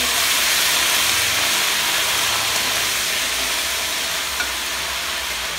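Bay leaf and whole spices fry in hot oil for Bengali gota seddho, a loud, steady close sizzle with no voices.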